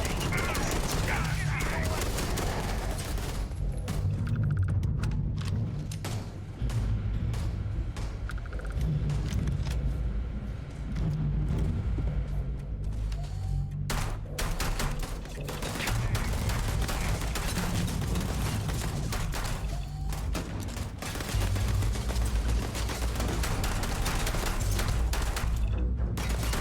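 Sustained gunfire in the sci-fi game Starfield, dense bursts of automatic shots and rattling volleys pounding almost continuously for nearly half a minute, loud and close, with scattered voices under the din.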